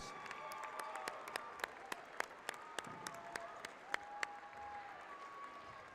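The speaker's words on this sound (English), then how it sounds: "please join me in giving another round of applause for these senior athletes and their parents or guardians" Applause from a crowd in a school gym after a basketball game honoring senior athletes: a steady bed of clapping with sharper individual claps popping out, with faint voices and a whistle-like tone mixed in.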